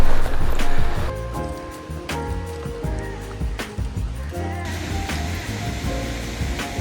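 Rushing water approaching Nunobiki Falls in Kobe, a waterfall on a hiking trail: a broad, steady roar fills the background, with footsteps and clatter nearby and some talk over it.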